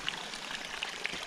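Water from a mountain stream at a crossing on a Cascades hiking trail near Packwood Lake rushes in a steady, close, broadband wash, with a few brighter splashes breaking through.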